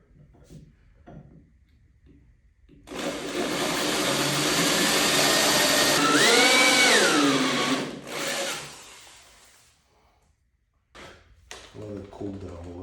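A power tool cuts a hole in an interior door with a loud, steady, close grinding drone that holds for about seven seconds and briefly rises and falls in pitch. Short bits of speech come before and after it.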